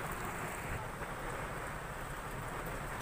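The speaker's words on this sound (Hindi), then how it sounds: "वहां पहुंचे तो बहुत बारिश हो रही थी" Heavy rain pours down on the village of Kot Momin, a dense unbroken hiss of falling water filling the whole moment at steady loudness, with no voices.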